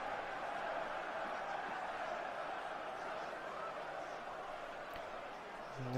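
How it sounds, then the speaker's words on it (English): A small group of Nottingham Forest away supporters in a stadium's away end keeps up a steady, distant wash of crowd noise, even in level for the whole stretch. "It's only a small following of Nottingham Forest supporters, but they are making good noise in that away end"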